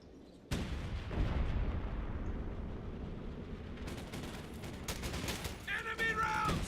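Enemy gunfire and distant battlefield fire in the World War II strategy game Company of Heroes 2, a continuous rumbling barrage with scattered sharper shots, moderately loud and steady throughout.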